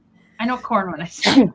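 A single sharp sneeze bursts out right after a stretch of someone talking during a live sale of vintage home décor, loud and close.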